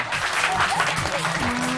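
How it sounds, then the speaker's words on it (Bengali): Studio audience clapping on a Bangladeshi children's comedy show, a steady dense patter of applause that fills the short moment at even loudness with no talk over it. "কিমিয়া ম্যাডাম একটা হাততালি দাও"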